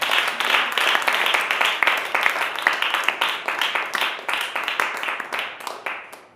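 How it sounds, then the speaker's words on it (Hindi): A church congregation claps in rhythm for the Lord, with dense, steady, close clapping that swells and eases slightly over several seconds. "ये प्रभु के लिए आप ताली दे सकते हैं।"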